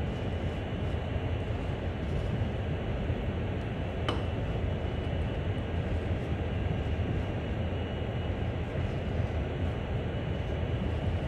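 A CSX heavy-haul freight train on the snowy, icy Sand Patch grade in Train Sim World gives off a steady, unbroken low rumble, with one brief sharp click partway through.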